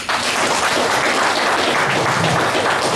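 A meeting audience applauds in a dense, steady wash of clapping, loud and close, rising sharply at the start and holding constant.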